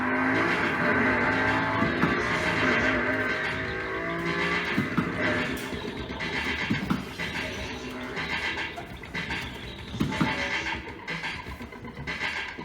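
Racing car engines from a Need for Speed Carbon arcade machine roar continuously with whining revs and occasional tire squeals, loud and dense with no pauses.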